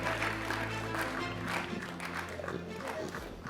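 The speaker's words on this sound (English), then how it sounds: "let's give our distinguished speakers another round of applause" Forum audience applauding speakers at a governance event, a steady wash of clapping from a large room at moderate level, with faint voices and a low hum underneath.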